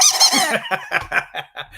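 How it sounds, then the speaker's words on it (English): Squeaky toy sound effect on a cruise-talk live show, a rapid run of honking rubber squeaks, the first drawn out and the rest short, close and clear. "You get the first double squeaky of the day."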